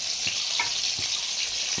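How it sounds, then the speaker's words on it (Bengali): Bitter gourd pieces fry in a pan with a steady, bright sizzle, soft crackles and a few faint low taps, no voices. "উচ্ছেগুলোর এক পাশ ভাজা ভাজা হয়ে গিয়েছে। আমরা একটু উল্টে দেবো।"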